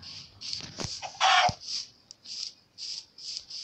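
Chickens in Minecraft cluck in short repeated bursts, with a louder squawk and a few clicks mixed in, fairly clear against a quiet background.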